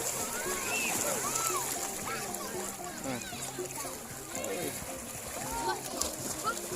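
Children splash and play while bathing in open water on a hot day near the Thai border, with continuous splashing and sloshing beneath their high, lively chatter and calls.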